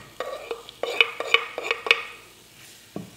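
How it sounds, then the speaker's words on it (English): Stirring and clinking in a pan over a faint sizzle of onions frying in hot oil, with several sharp utensil taps in an irregular rhythm and no talking. "A little bit of a sizzle."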